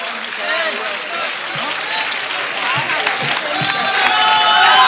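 Audience at an All India Mushaira in Chakrapanpur clapping together in sustained applause that swells toward the end, with a voice briefly heard over it.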